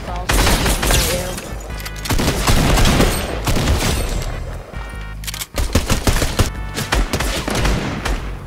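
Rapid gunfire bursts from the video game Fortnite crackle loudly in dense volleys with short pauses, up close among other game effects.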